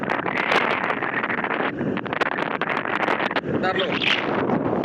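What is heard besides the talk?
strong wind blowing on a pier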